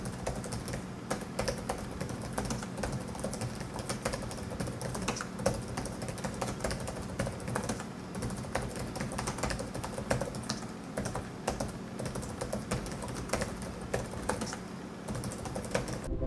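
Continuous, even typing on the pantograph keyboard of an AORUS 7 SA i7 E gaming laptop, with close, crisp key clicks tapping steadily for about sixteen seconds with no talking.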